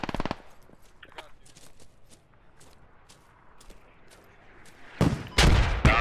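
Suppressive gunfire in a military shooter game, scattered sharp shots and bursts at a distance, building to a loud close volley toward the end.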